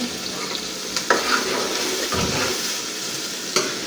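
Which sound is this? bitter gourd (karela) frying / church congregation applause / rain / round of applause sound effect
bitter gourd (karela) frying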